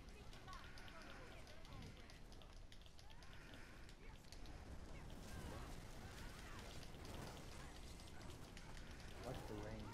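Steady rain falls in a video game as a dense, constant hiss of drops under continuous talking, moderately loud throughout with no breaks.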